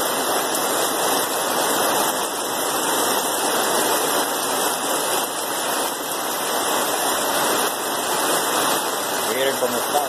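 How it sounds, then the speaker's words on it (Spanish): A loud, constant rush of heavy rain fills the whole stretch, a dense unbroken hiss close by. "es por el agua que está lloviendo mucho"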